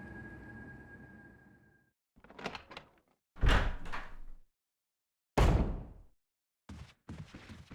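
A door opening in Resident Evil HD Remaster: a low rumble gives way to heavy creaking and clunking movements, two loud thuds and a closing knock, all separated by silence.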